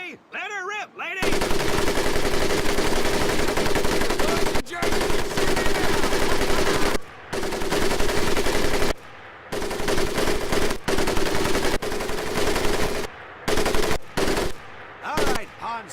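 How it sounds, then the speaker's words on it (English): An M1919A4 .30 caliber machine gun fires in Medal of Honor, loud sustained automatic bursts of rapid rattling shots broken by brief pauses, close and dominant throughout. "M1919A4 30 caliber machine gun"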